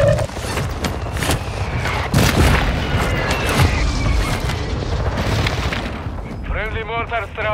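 Mortar strike explosions in Warzone 2 on Ashika Island: loud, booming blasts and rumbling impacts, with a radio-style voice speaking over the barrage and whistling tones near the end.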